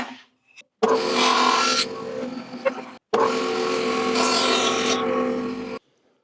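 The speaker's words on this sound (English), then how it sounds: "So this is after the first bandsaw cut." A bandsaw rips through a wooden shim for a barn door repair in two long passes separated by a short pause, each a loud, close, steady rasping whine with no talking.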